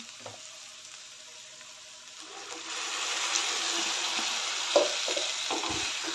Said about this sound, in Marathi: त्यानंतर आपण पालकची जी पेस्ट करून घेतलेली आहे ते घालते यामध्ये मी